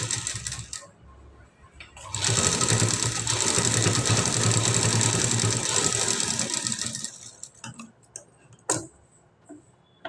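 A sewing machine stitches a work blouse in one loud, steady run of rapid mechanical chatter lasting about five seconds, then stops, leaving faint ticks and small handling clicks nearby.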